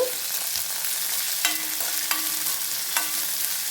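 Chopped onions frying in oil with chana dal and urad dal, a steady, close sizzle running throughout, broken by a few light clicks from stirring.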